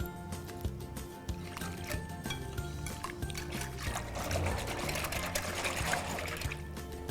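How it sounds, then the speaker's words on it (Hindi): Water is poured into a yogurt mixture for Punjabi kadhi, a continuous splashing trickle close by that swells in the second half, with faint background noise throughout. "अब इसमें जाएगा खूब सारा पानी, मतलब जितना दही था उसका एटलीस्ट 6 to 7 टाइम्स पानी।"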